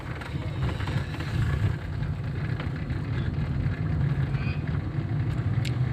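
A car driving on a rough road under repair, with a steady low engine and road rumble close inside the cabin, continuous and even throughout.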